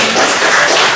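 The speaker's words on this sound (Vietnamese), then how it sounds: "Chúng ta vỗ tay nhờ cậy Chúa." A church congregation at a Shalom Church prayer service applauds, a dense, loud, continuous wash of many hands clapping together, heard alone for about a second.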